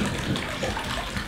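Water pours steadily into a large backyard swimming pool, a loud continuous gushing rush with no pauses, heard up close.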